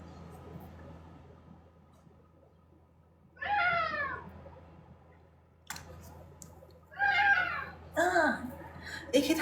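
A cream British Shorthair cat meows several times, a rising cry, then a pause, then a cluster of closer, louder meows over a quiet room with faint clicks.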